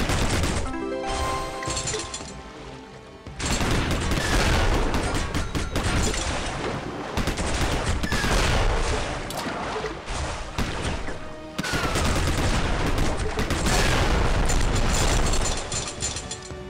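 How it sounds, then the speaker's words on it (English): Heavy machine gun blasting away in the mobile game Ramboat, loud sustained bursts of rapid fire mixed with crashes and explosions, broken by a short quieter stretch before the barrage resumes. "Heavy machine gun."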